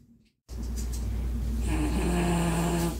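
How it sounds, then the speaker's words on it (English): A dog sleeping indoors snores in a steady, continuous rumble, loud and close, with a brief quiet gap at the start before the droning breaths settle in alone. "His snoring is like off the chain."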